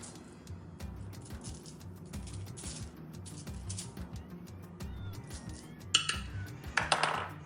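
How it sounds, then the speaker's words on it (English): A spoon sprinkles table sugar over buttered biscuits, giving light clinks and taps against a dish, quiet and intermittent, then a few brighter scraping bursts near the end. "we're literally just gonna take a spoon and some table sugar, and we're gonna sprinkle it over the tops"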